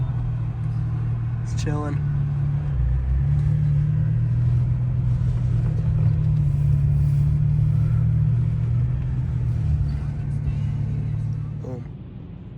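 A BMW E92 ZHP drives around with a low, steady engine rumble close by, the idle-to-cruise drone holding throughout before easing at the end, with a person speaking briefly over it.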